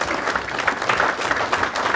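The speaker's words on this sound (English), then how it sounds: "give Dr. Tim Steffans a nice round of applause" Audience at a lecture gives a round of applause, steady dense clapping from a moderately sized crowd heard at a moderate distance for the full two seconds.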